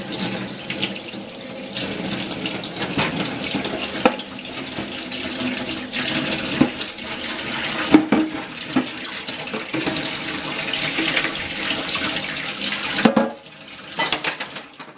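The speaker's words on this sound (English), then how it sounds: "I'm going to rinse this off now" A tap runs steadily as an object is rinsed off under it, with the water rushing and splashing continuously and shifting as the object is moved through the stream and rubbed, near and fairly loud.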